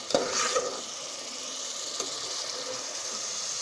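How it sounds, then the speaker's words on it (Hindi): Masala with fresh green chillies roasting for aloo moongray curry, giving a continuous, even sizzle in a pan, with a few light stirring knocks near the start. "बस थोड़ी देर और भूनेंगे और फिर डालेंगे इसके अंदर अपनी सब्ज़ी को"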